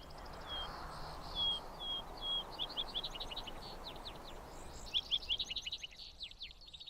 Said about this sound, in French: un bois où souffle une légère brise et où résonne le chant des oiseaux